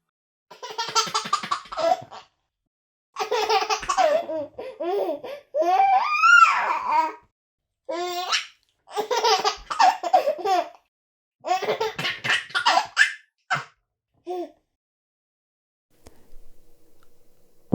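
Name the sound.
recording of baby giggles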